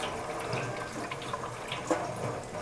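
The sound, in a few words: rinsing gluten dough under lukewarm tap water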